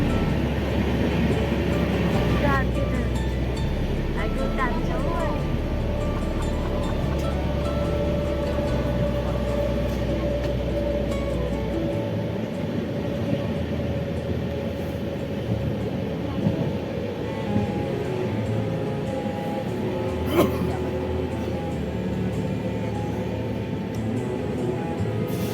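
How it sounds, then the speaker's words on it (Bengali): The Kanchan Kanya Express runs through the Dooars forest toward New Mal Junction, heard from inside as a continuous rumbling roar with rhythmic clatter, a heavier low drone fading after the midpoint, and a person talking. "আর এখন আমাদের ট্রেন ছুটে চলেছে ডুয়ার্সের মধ্যে দিয়ে নিউ মাল জংশনের উদ্দেশ্যে।"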